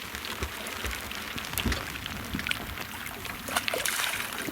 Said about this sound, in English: Well, Braun's back in the rain here.